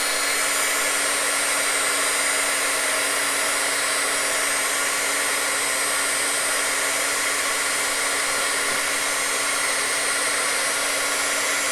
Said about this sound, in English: Now we're going to heat this, and it needs a little bit more heating than usual.